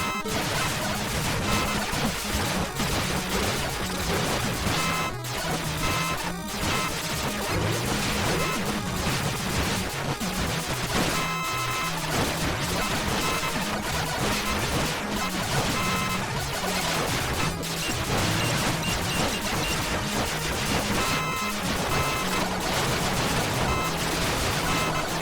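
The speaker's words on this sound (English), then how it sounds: "Well, the explosion does harm other enemies." Dense, continuous crashing and rapid blasting from Power Drive explosions striking enemies in the Mega Man Maker video game, loud and relentless over busy game music with no pauses.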